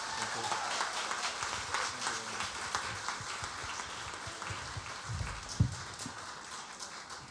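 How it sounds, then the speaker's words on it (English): Moderate applause from an awards ceremony audience at a community impact awards event, a fairly quiet, patter-like clapping that continues steadily for several seconds in a large room. "I would like you to give some applause for her as well,"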